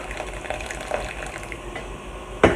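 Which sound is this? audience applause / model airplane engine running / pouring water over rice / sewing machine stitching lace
pouring water over rice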